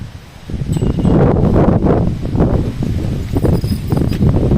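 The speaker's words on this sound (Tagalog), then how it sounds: "So, sobrang hangin, ha?" Gusty wind buffets the microphone in loud, rumbling bursts, with rustling underneath and no talking.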